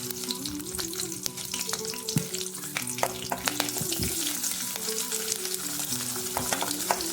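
Finely chopped beans and a medium onion frying on a low flame, a steady hiss of sizzling with scattered crackles and occasional stirring clinks, close and continuous, no one speaking.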